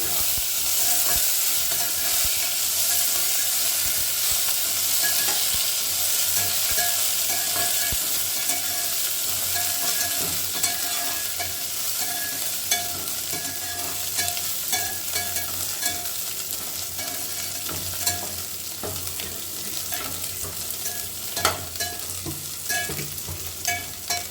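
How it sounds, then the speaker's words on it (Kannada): Cashews stir-fry in a pan for coconut rice, giving a steady close sizzle broken by repeated spatula scrapes and light taps throughout, with no voices. "ಈಗ ಗೋಡಂಬಿ ಎಲ್ಲ ಒಳ್ಳೆ ಸುತ್ತ ಹಾಕ್ಕೊಳ್ತೀನಿ"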